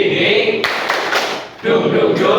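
Classroom students performing a rhythmic spirit clap, a burst of quick group claps followed by a brief pause and another round, loud and close with voices chanting along.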